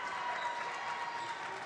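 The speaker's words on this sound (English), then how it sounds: "as the Blue Jay fans applaud the effort of their squad tonight" Blue Jay basketball fans applaud steadily in a school gym during a boys high school game, a dense, even wash of clapping that holds at moderate level throughout.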